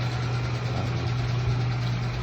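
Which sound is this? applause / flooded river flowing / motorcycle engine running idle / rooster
motorcycle engine running idle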